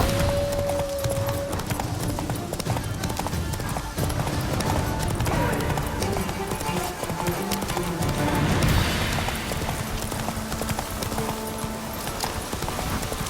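Roach the horse gallops in The Witcher 3, with a rapid, rhythmic clip-clop of hooves that continues throughout, a short whinny near the start, and game ambience underneath.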